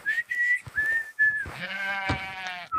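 On a farm, a few clear whistled notes come first, then a sheep lets out a loud, drawn-out bleat nearby.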